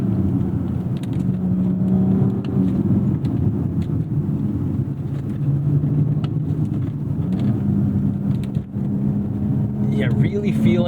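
A 2019 BMW X3 M40i with a burble exhaust tune drones steadily from inside the cabin while driving, engine note shifting through gears, with pops and crackles near the end.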